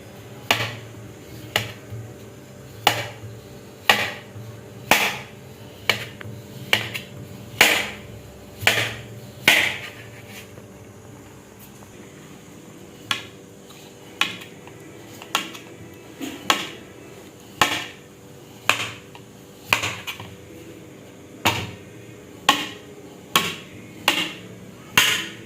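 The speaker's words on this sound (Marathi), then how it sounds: "गूळ मी इथं बारीक बारीक असं चिरून घेते" A block of jaggery being finely chopped with a knife on a board for sweet lapshi: sharp, regular knocking chops, close and loud, in quick runs with a short pause midway, no talk.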